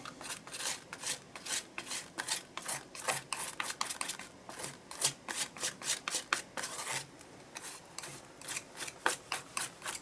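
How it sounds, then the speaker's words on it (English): A spatula scraping paint across an art journal page, a series of quick rasping strokes repeated in an uneven rhythm, close and fairly clear with no talking. "I'm going to grab a spatula and I'm just going to scrape that."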